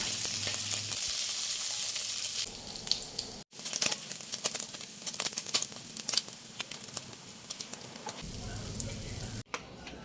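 Sausage fries in oil in a pan, a close, crackling sizzle broken by stirring and scraping, with brief pauses before the hissing picks back up.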